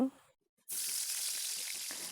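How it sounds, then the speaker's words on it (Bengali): Onions and chilies hit hot fish oil in a wok and break into a loud, steady sizzle. A brief voice and a short silence come just before the frying starts. "একটা কড়াইতে তেল দিয়ে সেই মাছগুলোর তেলই দিয়ে ভালো করে পেঁয়াজ মরিচ ভাজবো"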